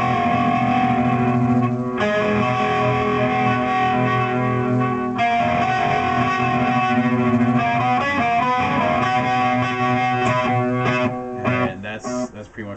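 A riff played on electric guitar through distortion and echo effects, a continuous loud stretch of ringing notes for about twelve seconds that thins out at the end, with no talking.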